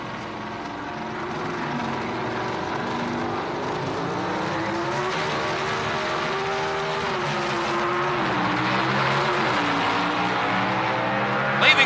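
An AMC Hornet and a Ford Fairmont, 1978 NHRA drag race cars, launching side by side off the line, heard as a sustained engine roar that climbs in pitch as they pull away into the distance.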